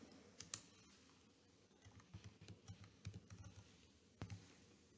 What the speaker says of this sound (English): I'm going to type in my Library Connect number and my password.